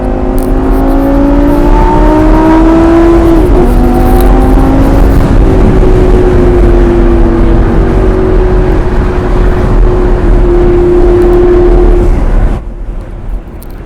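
A Lamborghini Gallardo V10 Performante in sport mode drones loudly and steadily while driving, its engine pitch rising through the gears with a brief dip at a shift, then cutting off abruptly at the end.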